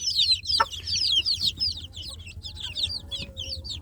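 A crowd of native village chicks peeps nonstop in a brooder box, with rapid high chirps overlapping one another over a low background rumble.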